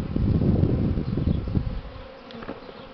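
A swarm of honey bees hums loudly around a hive while a swarm is being settled and the queen caught at the landing board, a dense, steady buzzing that thins and fades over the last second.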